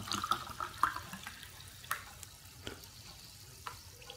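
Water pours from a bottle into a water electrolyzer, a faint close splashing and trickling with a few small clinks and gurgles, alone without talk.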